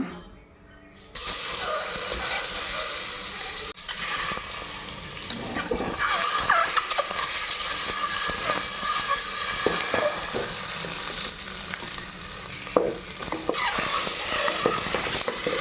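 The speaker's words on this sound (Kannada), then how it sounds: "ಈಗ ಇದು ಸ್ವಲ್ಪ ಫ್ರೈ ಆದಮೇಲೆ ಒಂದೊಂದೇ ಮೊಟ್ಟೆ ಹಾಕ್ಕೊಂಡು ಫ್ರೈ ಮಾಡ್ಕೊಳ್ಳೋಣ" Eggs frying one at a time in a pan with spiced oil for egg biryani, a steady loud sizzle that jumps up suddenly after a quiet start and continues with small crackles throughout.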